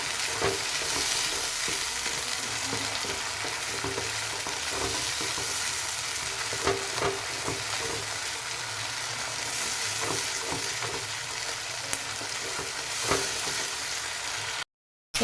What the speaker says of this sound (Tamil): ஸோ இதை வந்து நல்லா சாட்டே பண்ணிக்கோங்க